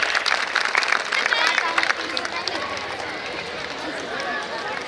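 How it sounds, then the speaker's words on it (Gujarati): Audience applause at a Kharak community get-together, a dense burst of many hands clapping that is loudest at the start and settles into a steady patter, mixed with crowd noise. "તાળીઓથી વધાવીએ આપણે બધાય"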